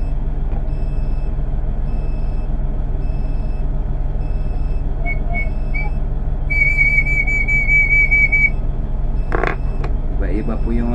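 A PVC pipe whistle imitating a tikling bird call gives a few short chirps, then a sustained high tone of about two seconds, set against steady low rumbling background noise.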